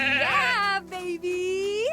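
A sheep in the video game The Good Life lets out a loud, drawn-out bleat with a wavering pitch, close and clear, over quiet game background.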